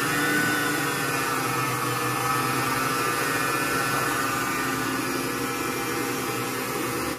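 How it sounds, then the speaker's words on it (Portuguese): An electric mixer beats egg whites into meringue as sugar is added, giving a loud, constant whir that holds steady from start to finish. No one speaks. "Agora, com a batedeira ligada, vamos acrescentando as colheradas o açúcar."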